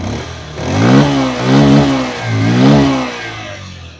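A Bajaj Pulsar 125 or TVS Raider 125 motorcycle engine revs up repeatedly with the throttle, rising and falling in three surges before settling back toward idle, close and loud.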